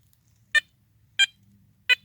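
Metal detector signalling on a buried target: three short, sharp electronic beeps, evenly spaced about two-thirds of a second apart, clear over near silence.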